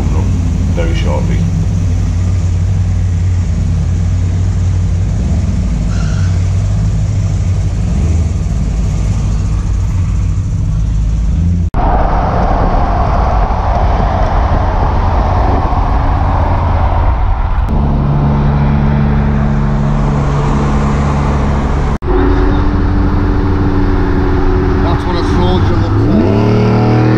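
Fantastic cars rolling on the street during a Drag n Drive UK street weekend, with continuous engine rumble, revving and passing cars, loud and close, shifting between scenes throughout.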